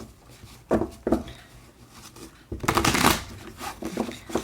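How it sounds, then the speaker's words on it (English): A tarot card deck being riffled and shuffled by hand, with a few short bursts of fluttering card noise and then a longer, louder shuffle, close and with no talking. "when it stops liking to be shuffled, it's time to just start picking cards"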